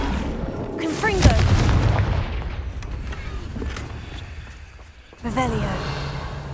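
A Confringo fire spell from a Hogwarts wizarding video game bursts with a loud, sharp boom, its blast trailing off over several seconds before a second impact lands near the end, with game voices and effects mixed in.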